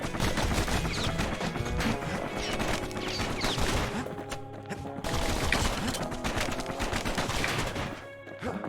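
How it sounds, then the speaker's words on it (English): Pistol gunfire in the action game Bastion: a dense, continuous stream of shots layered over busy combat effects and music, steady and loud throughout with a short dip midway. "Pistols seem to do real good damage."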